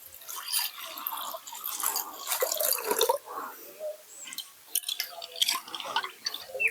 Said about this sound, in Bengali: এবার আমি এর মধ্যে দিয়ে দেবো কিছুটা জল।